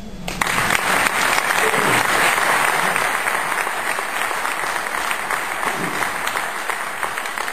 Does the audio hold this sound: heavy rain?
no